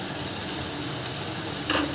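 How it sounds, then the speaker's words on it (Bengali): Spice paste with prawns and fried taro stolons sautéing in a pan, a steady close sizzle with light stirring scrapes and a brief louder crackle near the end. "সব আমি এবার ভালো করে মশলার সাথে হালকা হাতে কষিয়ে নেব।"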